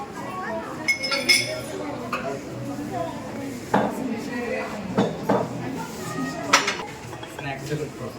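Small glasses and jugs clinking together in a series of sharp, close chinks and clatters, with people talking in between.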